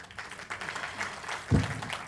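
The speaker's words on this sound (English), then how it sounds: "I need to hear louder claps" Audience applause fills a session hall at the Indian Space Conclave, a space industry conference: a steady, moderately loud wash of clapping with a brief stronger burst partway through.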